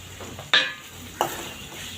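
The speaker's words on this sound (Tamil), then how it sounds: "இப்போ நம்ம எடுத்து வச்சுருக்க மசாலா எல்லாத்தையும் ஆட் பண்ணிக்கலாம்." Spice masala tipped into rice frying in a pan, two sharp clinking scrapes of a spoon against the metal over a soft continuous sizzle, close and moderately loud with no voices.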